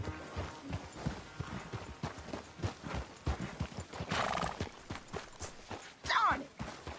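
Horse hooves clop in an irregular walking rhythm in Red Dead Redemption 2, quiet and close, with a brief whinny standing out near the end.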